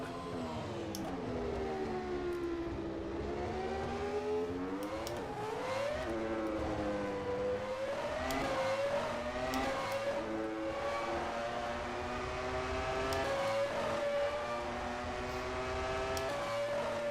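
A 1996 Sauber Formula One car's high-revving engine in the rFactor 2 racing game, loud and continuous, its pitch rising and dipping through gear changes and acceleration.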